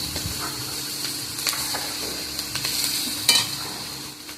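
Onions frying for posto chicken, a soft steady sizzle in the pan with a few sharper scrapes of stirring, close and fairly quiet with no voices.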